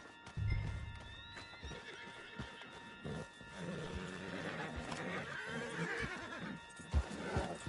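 Hooves clip-clop along while a horse lets out a loud whinny in Red Dead Redemption 2, with game-like ambient tones humming underneath.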